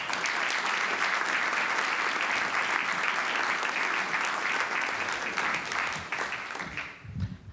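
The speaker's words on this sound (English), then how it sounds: "welcome to the stage, please, round of applause for Dr." Sustained applause from a lecture audience welcoming a fire and explosion scientist to the stage, a loud dense wash of clapping that carries on evenly and fades out near the end.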